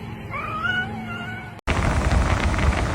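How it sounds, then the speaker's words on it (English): A cat meows and caterwauls in rising, wavering calls over a steady background hum, then an abrupt cut leads into a louder, noisy stretch. "What is wrong with that cat?"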